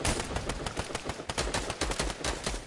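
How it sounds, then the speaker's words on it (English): Continuous rapid gunfire in a video game shootout, dense overlapping bursts of automatic shots at steady close loudness with no pause. "they're shooting at me"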